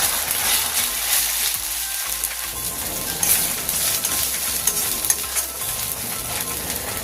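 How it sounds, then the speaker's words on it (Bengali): Ginger garlic paste fries in oil while being stirred, a loud, dense, continuous sizzle close to the pan with scraping stir sounds throughout. "এবার আদা রসুনটা তেলের মধ্যে ভালো করে নাড়াচাড়া করে ভেজে নেব"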